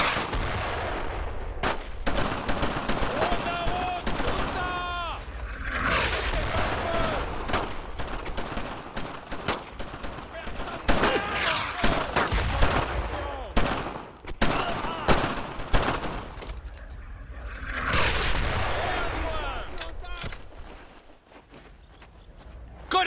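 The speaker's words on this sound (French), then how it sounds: "Il me faut des tirs de suppression ici!" Sustained suppressing gunfire in Brothers in Arms: Road to Hill 30, a World War II shooter: dense rifle and machine-gun bursts crackle almost nonstop, near and far, with brief lulls and shouted voices over the battle.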